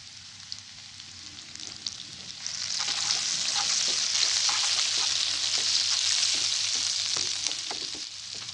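Shallots and garlic fry in hot oil, the sizzle swelling louder as they hit the pan, with scattered spatula scrapes and stirring clicks and no talking.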